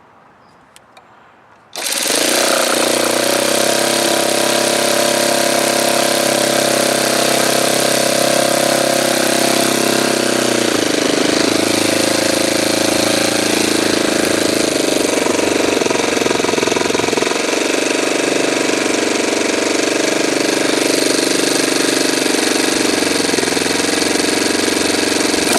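A Saito twin model engine running lean, a loud, harsh, continuous buzzing drone close by that starts abruptly and holds steady with slight shifts in pitch.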